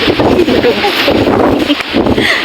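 Strong, roaring typhoon wind buffets the microphone nonstop, a dense, loud rush of noise with no pauses.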